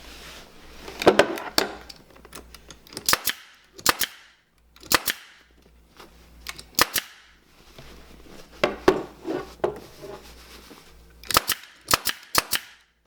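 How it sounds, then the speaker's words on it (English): A staple gun fires into upholstery fabric, sharp snapping clacks coming singly and in quick bursts of two or three with short pauses between, close and loud with no talk. "Once you like the way this looks, then you're going to staple it, and then you'll come back this way and staple."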